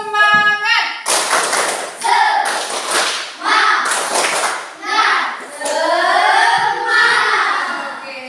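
A class performs the tepuk semangat, a rhythmic clapping routine, with bursts of sharp claps in a set pattern between short chanted phrases from the children and teacher, close and loud.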